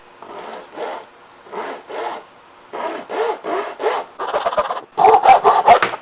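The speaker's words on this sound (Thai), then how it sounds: "เดี๋ยวผมจะทำการตัดท่อขวดตรงนี้ออกนะครับเพื่อนๆ" Cutting off the neck of a plastic bottle, heard as close, loud rhythmic rasping strokes in short bursts with brief pauses between them, the strokes growing faster and harder toward the end.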